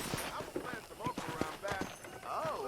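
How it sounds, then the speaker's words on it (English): Horse hooves galloping in the Red Dead Redemption video game, a quick clip-clop rhythm with a whinny, heard faintly under speech and ambient game sound. "let's see if you can still ride a horse"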